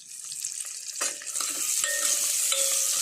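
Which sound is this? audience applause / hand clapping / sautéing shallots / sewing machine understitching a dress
sautéing shallots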